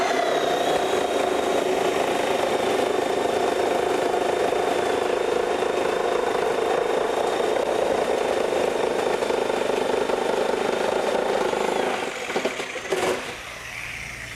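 Porter Cable Tiger Saw model 737 reciprocating saws run together in a race, a steady loud buzzing whine with a high tone that holds for about twelve seconds before cutting off into rattling.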